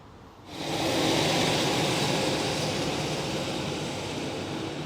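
A low mechanical rumble swells in quickly after a quiet start, then holds as a steady, loud roar of a train arriving nearby at a station in Warrington.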